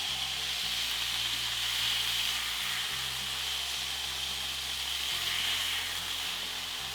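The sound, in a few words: beef cubes sizzling while browning in a pan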